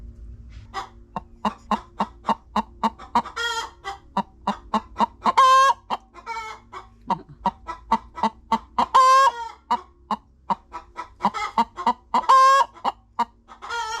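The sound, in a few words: hens clucking around a new nesting box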